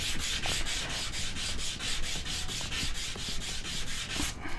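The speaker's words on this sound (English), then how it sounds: "That sandpaper is pretty fine." Fine 320-grit wet/dry sandpaper rubbing in a steady, fast back-and-forth rhythm, close and continuous, with no voices.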